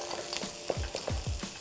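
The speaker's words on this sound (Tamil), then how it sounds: "இந்த வெங்காயம் வதங்கும் போதே" Onions sautéing in a pan for paneer pasanda on a television cookery show, a steady low frying sizzle with a few soft stirring scrapes, close and unbroken, with no voices.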